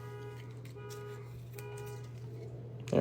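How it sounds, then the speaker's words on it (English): A car alarm sounds in the distance with a steady electronic tone and repeating pulses, continuous and moderately faint, ending in a louder burst of noise. "Someone's car alarm going off out there."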